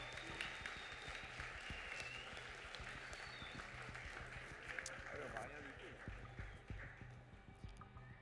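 Steady, dense applause from an audience at an eloquence contest final, continuous clapping of even loudness for about eight seconds with a voice or two faintly mixed in.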